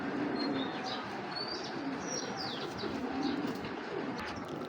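A male Giribaz pigeon with a green neck coos softly in low, rolling phrases, while faint chirps from other birds sound in the background and the whole scene stays fairly quiet.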